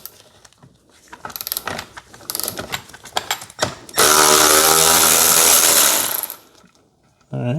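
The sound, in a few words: removing T50 seat bolt from BMW 340i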